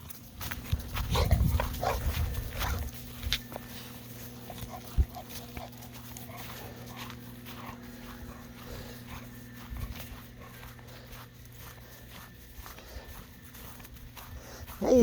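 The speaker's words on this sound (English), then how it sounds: "How you turn into a massive dog?" A large dog moves around on a homestead farm, with snuffling, shuffling and footsteps close by early on, then quieter scattered movement and faint outdoor background.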